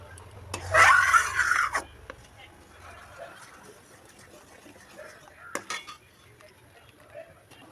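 Palm juice mixture stirred in a cooking pot, with a burst of metal spoon scraping and clinking early on, then quieter sporadic knocks against the pot under soft background sound.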